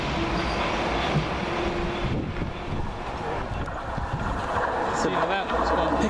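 A London Underground Piccadilly line train at Stamford Brook rumbles past as a steady, broad roar of wheels and motion with wind buffeting, holding a fairly even loudness from start to finish.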